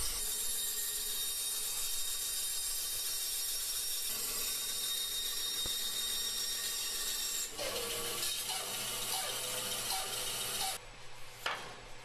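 A bandsaw cuts a wooden fish-shaped piece for a knick-knack shelf. A steady motor whine and blade hum run throughout, the tone shifting partway as the cut changes, before the saw winds down near the end.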